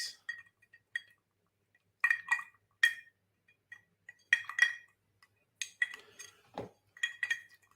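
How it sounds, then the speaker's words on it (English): Ice clinking against the glass as an old-fashioned cocktail is stirred, a series of sharp, close, bright clicks arriving in short bursts with quiet pauses between them. "stir in some ice"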